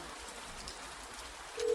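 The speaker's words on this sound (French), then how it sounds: "Il pleut tellement fort." Heavy rain pours down in a dense, even hiss that stays constant throughout and swells slightly at the very end, with no voices over it.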